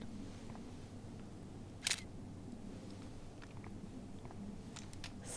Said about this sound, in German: dann können wir einfach erstmal hier diese Kamera benutzen, um ein Foto zu machen